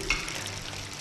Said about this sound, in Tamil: அதில் எண்ணெய் நல்லா சூடானோன்னே அதில் ஒரு 1/2 டீஸ்பூன் இஞ்சி